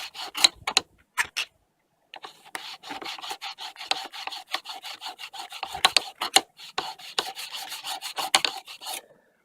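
A metal file rasps along the edge of a cabinet scraper in quick rhythmic strokes, a few isolated passes and then a long run of steady back-and-forth scraping, close and crisp with no talking.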